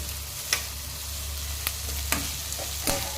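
Tempering spices with kasuri methi sizzle and crackle steadily in a pot of ridge gourd and chana curry, with a constant hiss and occasional sharp clinks of a spoon stirring nearby.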